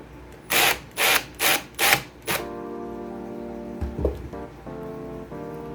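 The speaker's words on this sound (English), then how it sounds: "But we're going to screw those last 2 in." A power driver sinks screws into an Arcade1up cabinet in four short, evenly spaced whirring bursts. A fifth, briefer buzz follows, then faint ringing tones and a soft knock.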